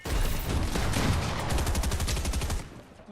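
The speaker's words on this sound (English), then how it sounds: "Shotgun uzad." Rapid bursts of shotgun and other gunfire in a Fortnite match at the FNCS global championship, loud and dense, continuous for about two and a half seconds before dropping off.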